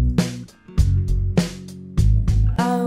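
Punchy drums in a song mix hit in a steady groove, each kick and snare strike landing loud and close with ringing low tones between, no talk over them.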